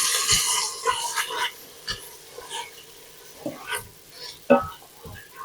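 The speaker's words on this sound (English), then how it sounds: "Let me stir that now." A utensil stirs food cooking in a pan, giving a few soft scraping strokes and clinks over a faint sizzle, fairly close and quiet.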